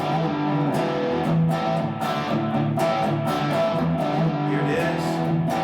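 An overdriven electric guitar plays a chorus variation in continuous, driving chord strums, loud and close, with no voices.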